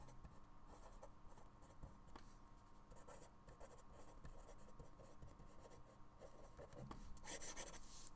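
Pencil scratching steadily across paper while labelling an oblique and isometric product sketch, a continuous close rasping and rubbing with small strokes, slightly louder near the end, no talking.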